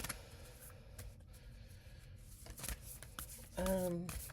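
Healing Spirit cards by Gordon Smith being shuffled by hand, soft riffling and flicking of card stock in short bursts, close and fairly quiet, with a brief voiced sound near the end.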